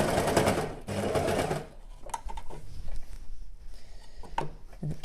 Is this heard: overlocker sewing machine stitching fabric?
yes